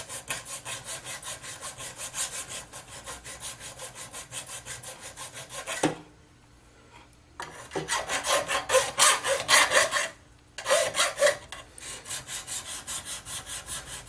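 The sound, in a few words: draw filing guitar body edges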